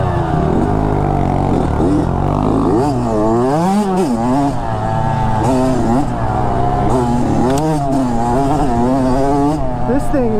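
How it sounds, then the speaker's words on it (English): A Kawasaki KX85 motocross dirt bike rides on trails, its two-stroke engine revving up and down in repeated wailing surges, loud and close, with a voice talking over it. "It's a, you know, a full-blown motocross bike"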